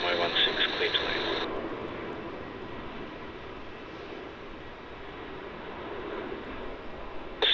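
A Qantas Boeing 737 jet landing at Melbourne Airport, a distant steady engine roar, louder at first then settling to a broad wash, with radio chatter from air traffic control crackling over it.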